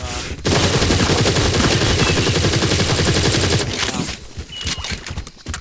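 Sustained automatic assault rifle fire in the sci-fi shooter game Firefall, a loud rapid stream of shots running for several seconds before cutting off into quieter game ambience.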